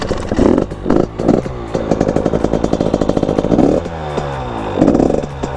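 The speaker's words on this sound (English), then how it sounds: "Let's just start it up and see what she sounds like." A 2019 road-legal dirt bike engine sputters and catches, then runs with an uneven, choppy idle broken by short throttle blips, loud and close with no talk.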